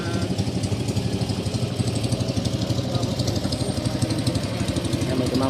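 A quiet motorcycle engine runs steadily nearby with a smooth, even idle-like hum and a low rhythmic pulse throughout, with faint voices in the background.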